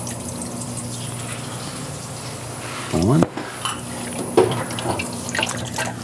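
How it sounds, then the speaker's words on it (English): A kitchen tap runs water into a sink while baking cookie dough, a close hissing flow among clinking dishes and utensils, with a brief spoken word. "Get a little water."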